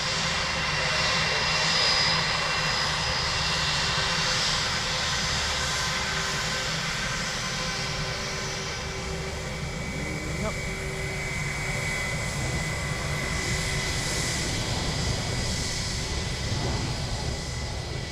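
Aircraft engine noise at Dublin Airport, a continuous loud roar rising and falling over the whole stretch as a plane passes near, with faint voices mixed in.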